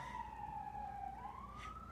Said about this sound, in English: there's police sirens going on